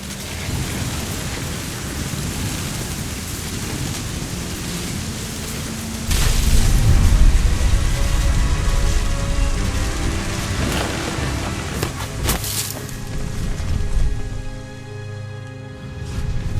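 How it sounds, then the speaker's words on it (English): Thunderstorm in the video game What Remains of Edith Finch: steady heavy rain throughout, with a deep rumbling thunder swell around the middle and crackling bursts later, loud and continuous. "The thunder sounded much too close and full of angry power."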